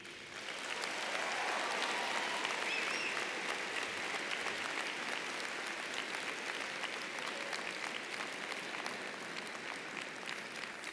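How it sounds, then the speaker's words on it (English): Graduates at a university business school spring commencement ceremony applaud in a dense, sustained ovation that swells in after a second and holds steady and loud to the end, with no voices over it. "Put your hands together and show them how you really feel"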